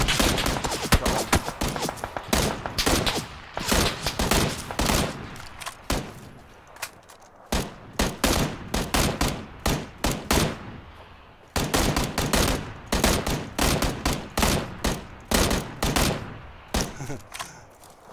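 Rapid bursts of gunfire from the video game PlayerUnknown's Battlegrounds, loud and close, firing in repeated sharp volleys with two short pauses between strings of shots.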